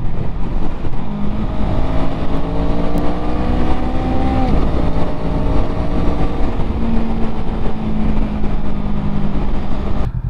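Honda Rebel 500 motorcycle (2022 CMX500) accelerating hard while overtaking, with a steady loud engine drone and rising harmonic tones that climb, drop at a gear change around midway, then build again under heavy wind and road noise.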